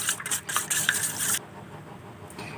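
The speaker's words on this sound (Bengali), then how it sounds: "আমরা ডিমগুলোকে ভালো করে এরকম করে ঘেটে নেব।" Eggs beaten with salt in a bowl, a fast busy scraping and clattering for just over a second, then a sudden stop leaving quiet room tone with a faint knock near the end.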